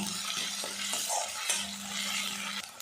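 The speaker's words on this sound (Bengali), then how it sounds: "বেশ কিছুক্ষণ নাড়াচাড়া করে ভাজা ভাজা করে নেব এতে আদা রসুন পেঁয়াজের যে একটা কাঁচা গন্ধ ওটা কিন্তু চলে যাবে" Ground ginger, garlic and onion paste stir-frying in a pan, a steady moderate sizzle broken by repeated scrapes and taps of a spoon against the pan.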